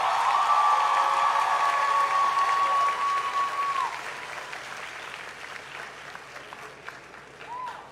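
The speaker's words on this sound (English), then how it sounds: "Let's give them a resounding round of applause." A graduation audience in a hall applauds steadily, loud dense clapping that gradually thins and fades, with a sustained tonal whine over the first few seconds.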